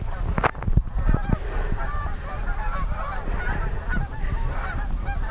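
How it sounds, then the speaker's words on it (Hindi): A flock of migrating ducks calls with repeated honking cries, overlapping and continuous, heard outdoors at moderate distance. "बतखों की हिजरत पे हिजरत हुए जा रही है"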